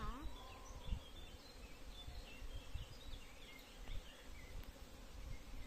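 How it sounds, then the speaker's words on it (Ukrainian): Honey bees hum quietly at a hive in an apiary, a low continuous drone, while birds chirp lightly in the distance and a voice murmurs faintly. "І що тут багато бджіл Яринка?"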